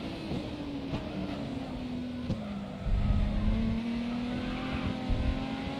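Race car engine in the Grid Autosport racing game holding a steady droning pitch that dips and then climbs, with a brief tire squeal and a louder surge midway, played at a fairly low level.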